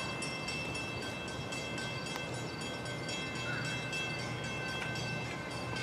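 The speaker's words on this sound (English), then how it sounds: "Train approaching. Please remain behind yellow line." A train rumbles steadily into a station platform, a continuous broadband roar of rolling wagons with faint brief squeals, loud and close throughout with no talk.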